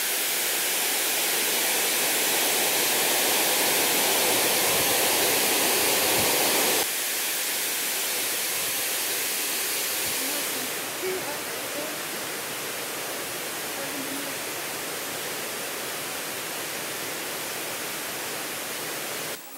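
A waterfall on an Amazon tributary in Peru roars as a steady, dense wash of close, loud white-noise rush that holds unbroken throughout, easing only slightly partway through.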